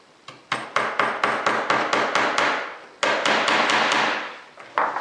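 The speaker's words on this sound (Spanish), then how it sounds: "yo puedo utilizar la parte del martillo que es plana para clavar" A hammer's flat face strikes a nail in a quick series of sharp, ringing taps in a school technology workshop, pausing briefly before another burst of blows, close and loud.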